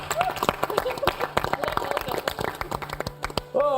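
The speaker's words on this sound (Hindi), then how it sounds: "एक बार फिर से हो जाए तालियां।" Scattered clapping from a small audience welcoming members of the Indian women's cricket team, uneven claps and shuffling under and between bits of talk.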